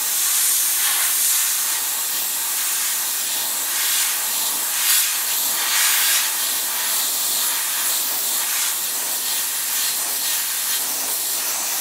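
Airbrush hissing steadily as it sprays paint onto a chainsaw carving, a continuous close, loud airy spray with slight pulses in intensity and no talking.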